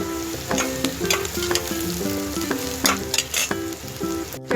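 Onions sizzling as they fry and turn lightly brown in a pan for an okra dish, with steady crackling and occasional stirring scrapes, close and continuous, no talking.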